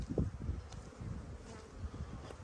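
Honeybees buzzing around beehives, a continuous low hum of many bees close by, with individual bees droning louder as they pass near.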